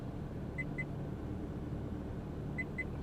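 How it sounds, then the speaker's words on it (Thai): Two pairs of short, quiet electronic warning beeps from the system of a McLaren MP4 car, about two seconds apart, over a low steady cabin hum. "ตอนนี้มันมีเสียงเตือนระบบ"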